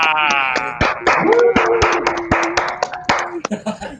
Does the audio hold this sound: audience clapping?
yes